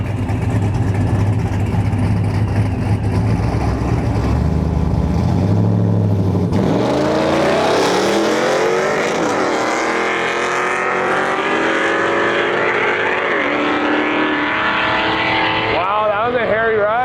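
A street car turned drag car making a run at a large drag-and-drive event, a loud engine rumbling at idle and then revving hard and pulling away with rising, shifting pitch, with a voice talking over it.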